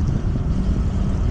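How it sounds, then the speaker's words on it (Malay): Wind on a breezy afternoon buffets the microphone outdoors, making a loud, continuous low rumble with rushing gusts and no clear voices. "Tapi dia berangin sikit."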